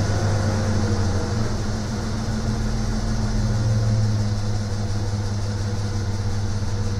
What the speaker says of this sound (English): That's just my fast idle kicking in